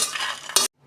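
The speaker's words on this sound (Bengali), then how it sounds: "বড়ি ভাজা হয়ে গেছে, আমি ঢেলে ফেলছি।" Fried lentil dumplings (bori) are tipped out of a hot pan, giving a brief scraping, sizzling rattle that ends in a sharp burst before cutting to near silence.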